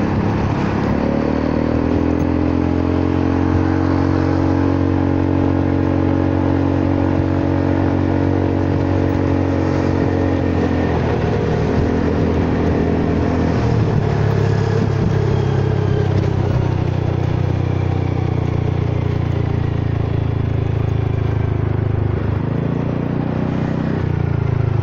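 A Honda Forza 300 scooter rides along a road, its engine a steady loud drone close up throughout, with wind rush and small shifts in pitch as the throttle eases and picks up.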